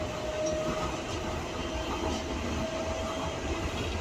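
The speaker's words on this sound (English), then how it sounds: "The train stops here." A DLR light railway train rolls steadily through the Docklands toward a station, giving a dense continuous rumble with faint rail hum and a thin tonal whine, moderately loud and without talking.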